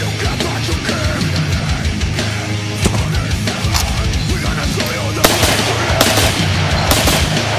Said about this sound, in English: Kalashnikov assault rifle, commonly referred to as the AK-47